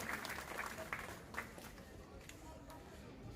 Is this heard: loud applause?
yes